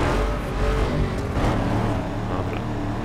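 A Hummer in Need for Speed Underground 2 speeds up with a steady, loud engine drone and rising tone, continuous and up close, with no talk over it.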